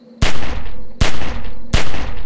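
Three loud, evenly spaced gunshots from The Walking Dead Telltale video game, each a sharp blast with a ringing tail, heard alone with no talk.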